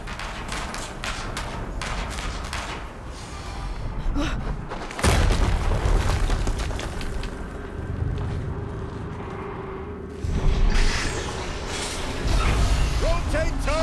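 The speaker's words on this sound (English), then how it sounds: "Another explosion." Explosion in the video game Horizon Zero Dawn Remastered: heavy booming blasts with deep thuds, loudest near five and ten seconds, over dense rumbling game noise, with voices talking throughout.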